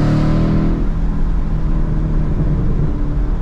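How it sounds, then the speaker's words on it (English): A loud, deep Mustang GT V8 engine revving and rumbling up close in the North Georgia mountains, its throaty roar filling the whole stretch with a reverberant echo off a rock wall. "very few sounds that are better than a V8 bouncing off of a rock wall."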